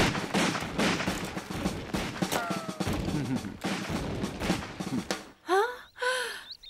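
A dense volley of musket gunfire rolls through a battle against the French, a sustained crackling roar that cuts off abruptly, followed by sharp gasps and voices.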